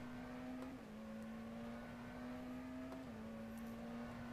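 McLaren Senna GTR race car engine in the racing game rFactor 2, a steady loud droning note that holds nearly constant pitch, dipping slightly at a couple of gear or throttle changes, continuous throughout with no talk.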